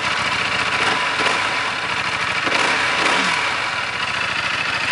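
A Buell 1125R motorcycle engine with a repainted stock exhaust, race ECM and K&N filter runs steadily and loudly up close, with a continuous throaty drone and slight swells in revs throughout.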